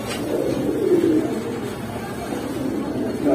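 Giribaz pigeons cooing in a loft, a steady low rolling coo running throughout at moderate loudness, with no voices over it.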